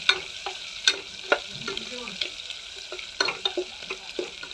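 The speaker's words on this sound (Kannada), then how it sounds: "ಇದು ಗೋಲ್ಡನ್ ಬ್ರೌನ್ ಆಗಬೇಕು ರೀ. ಚೆನ್ನಾಗಿ ಕಲಿಸ್ಕೊಳ್ಳಿ." Urad dal fries in oil toward golden brown with a close, crackling sizzle and repeated spatula scrapes and taps against the pan, and no speech.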